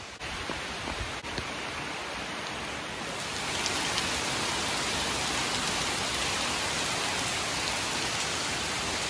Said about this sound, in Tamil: இன்றைக்கு மழை, இப்போ ரெண்டு மூணு நாள் மழை தான் நினைக்கிறேன்